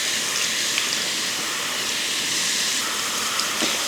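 A hose sprays water steadily on a horse's leg during hydrotherapy, a continuous close hiss of constant loudness with no voices.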